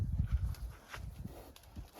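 A stallion's hooves clop unevenly on the ground as it shifts and moves nearby, fairly quiet, with faint background noise.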